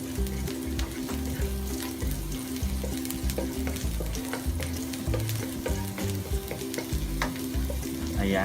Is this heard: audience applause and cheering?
no